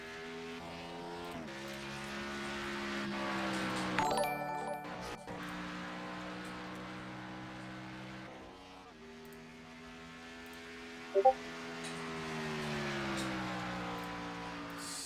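A race car in an Xfinity Series event at the Florida Sunset 250 runs around the track, its engine note rising and falling as it passes along the backstretch, heard steadily at moderate distance, with a commentator talking over it.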